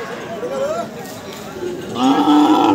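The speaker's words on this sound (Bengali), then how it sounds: "এখানে একটা গাভী বাছুর রয়েছে" A cow moos at a busy cattle market where Sahiwal and local dairy cows and calves are on sale, with two drawn-out lowing calls, one early and a louder one near the end, close by, while people chatter around it.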